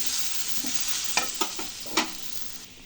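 Nearly done potatoes frying in oil in a wok, a continuous close sizzle broken by a few sharp scraping stirs of the spatula.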